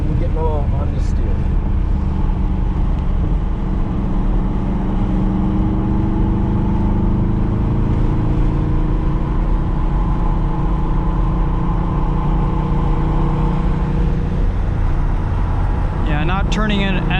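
A 2019 Dodge Charger Scat Pack on a race track accelerates with a low engine drone that climbs and holds under steady in-car talk.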